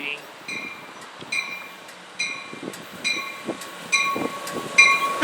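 Amtrak train AMTK 174, a Phase VII unit, runs alongside private car Tioga Pass, sounding a series of bright, rhythmic clicks and squeals as cars pass, with people talking nearby.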